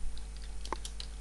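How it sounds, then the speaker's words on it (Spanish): A few quick keystrokes on a computer keyboard as a username is typed, close and soft over a steady electrical hum. "Acá volvemos a escribir el nombre de usuario."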